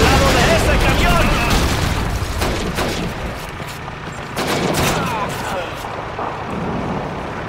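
Gunfire in the Call of Duty 2 video game: dense, continuous bursts of rifle and machine-gun shots with booming blasts, loud and close throughout, with shouted voices mixed into the battle.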